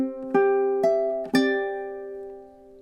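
Ukulele measures 19 and 20 of a gentle lullaby: four plucked chords in slow rhythm, each ringing into the next, the last left to fade, played alone and close.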